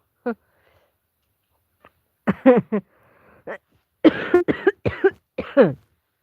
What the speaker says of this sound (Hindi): खांसी तो रुक नहीं रही